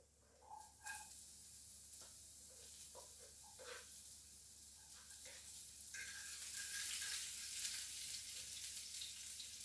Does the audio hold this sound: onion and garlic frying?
yes